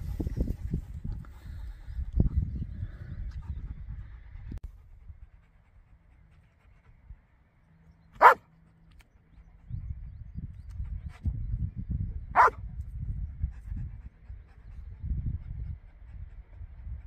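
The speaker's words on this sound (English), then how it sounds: "What's that stupid dog doing?" A dog beside Ullswater in the Lake District pants in rhythmic, breathy bursts close by, broken by a couple of sharp, sudden yelps, with quieter pauses in between.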